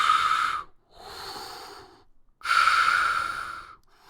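A voice imitates labored breathing: two long, raspy, wheezing breaths, each a harsh inhale or exhale separated by brief silence, close and fairly loud with no words spoken.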